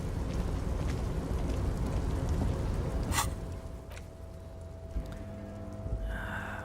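Rain falls steadily in the Disco Elysium video game, a dense hiss that fades down midway, with a sharp crack and a few thin tonal game sounds afterward.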